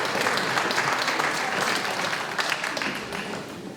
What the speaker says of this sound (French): On peut les applaudir pendant qu'ils vont s'asseoir.